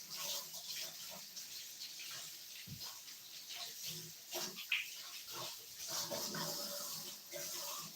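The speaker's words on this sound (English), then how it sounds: "Just giving it a quick rinse." Running water from a tap rinsing equipment during service prep, a continuous splashing hiss with clunks and knocks from handling, fairly quiet and steady throughout.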